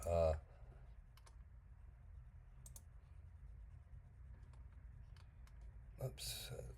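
Scattered computer keyboard keystrokes click faintly and irregularly over a low steady hum, with a couple of louder bursts near the start and end.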